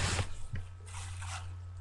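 A bite into a warm cucumber, a wet crunch and squish heard close up, followed by quieter moist chewing sounds, with no talking.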